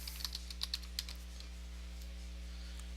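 Keys clatter on a computer keyboard in a short, irregular burst of quick taps as a team name is typed, over a steady low electrical hum, then the typing stops.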